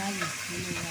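Mustard seeds and curry leaves frying in hot oil in a home kitchen, a steady close sizzle with faint stirring, brief and without talk.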